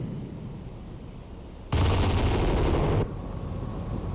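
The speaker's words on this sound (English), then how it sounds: "Full broadside, gotta love it." The battleship Iowa fires a full broadside in the naval game Cold Waters, a single loud, broad roaring blast lasting over a second that cuts off abruptly over steady low rumble.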